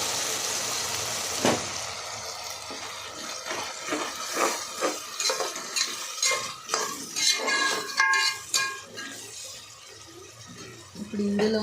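Masala paste tipped into a pan of frying vegetables for vegetable rice, with clattering utensil scrapes and clinks against the pan over a steady sizzle, close and moderately loud, with a voice talking at times.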